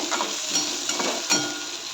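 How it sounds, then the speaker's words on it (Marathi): Softened potatoes with peanuts and turmeric sautéed in a pan for kande pohe make a close, continuous sizzle with a brief scrape of stirring, and no voices. "आता याच्यामध्ये मी शेंगदाणे टाकून घेतले आहे आणि हळदी टाकून घेतली आहे व्यवस्थित परतून घ्यायचे"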